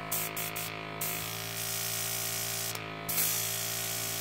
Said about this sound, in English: Turn on our air compressor